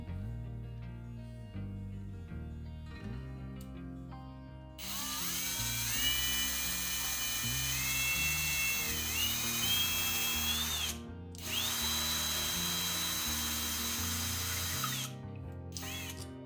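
Power drill spinning a bit through a Christmas ornament, a loud steady whine that holds for several seconds, stops briefly, then resumes, over quieter background sounds.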